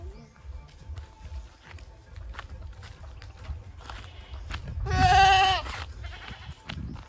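Goats bleat at a farm in Aklan, with one loud, wavering bleat rising above shuffling footsteps, hoof clatter and soft rustling nearby.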